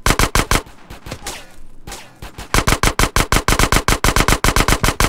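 Gunfire in the video game GTA San Andreas: loud, steady automatic fire in rapid, evenly spaced shots, briefly broken by a messier stretch of cracks and noise before the fast rhythmic bursts resume.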